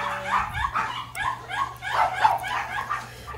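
Several Shih Tzu dogs yip, whimper and give short high barks in quick overlapping bursts, fairly close, over a low background hum.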